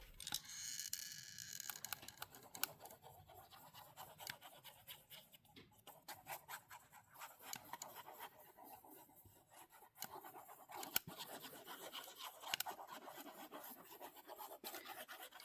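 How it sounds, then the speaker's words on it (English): Cardstock panel being glued and rubbed down onto a 110-pound cardstock card base, a continuous close scratchy rasp of hand rubbing and paper friction in uneven strokes, fairly quiet, with no speech. "Let's get this panel glued down to the base first."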